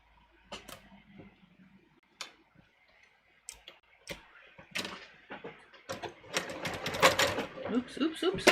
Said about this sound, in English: now I am going to just sew my shoulder seams together right here